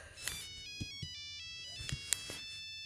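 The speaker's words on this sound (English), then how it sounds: "A sprightly ringtone breaks the sounds of the room." Nokia phone ringtone in the video game Orlam's Ordeal, a sprightly tonal melody of bright chiming notes with soft percussive taps, playing alone at moderate volume.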